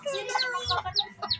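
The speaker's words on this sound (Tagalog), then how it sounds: "Oh, chicken. Chicks. Here. chicken." Chickens clucking and chirping nearby in a yard where ducklings and chicks are kept, a busy run of short overlapping calls over soft background noise.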